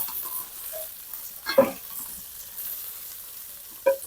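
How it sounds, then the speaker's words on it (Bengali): Shrimp and eggplant paturi sizzle steadily as they fry in a pan, with a couple of brief clinks or stirring knocks from a utensil rising above the constant close hiss. "ভাজা হয়ে গেছে এই পাতুরিগুলো"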